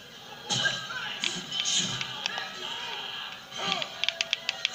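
Punches land in the boxing video game Fight Night Round 3, a few sharp thuds and a quick run of snappy impacts over crowd noise, with a commentator talking through much of it.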